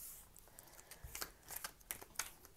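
Tarot cards being shuffled for a love-reading spread: a quiet, irregular run of crisp riffling snaps and papery flutters, close by and with no talking.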